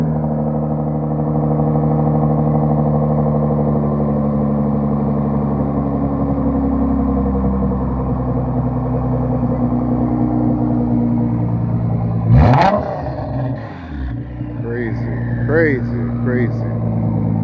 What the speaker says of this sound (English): Let's get one more sound check on that exhaust.